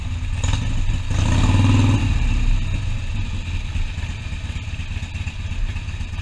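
A Harley-Davidson Iron 883 motorcycle engine runs steadily in traffic, a continuous loud low rumble that swells briefly partway through, then settles into an even idle-like drone.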